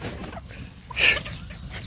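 Chickens at a neighbour's vegetable plot, giving a brief clucking call that peaks near the middle over quiet outdoor background.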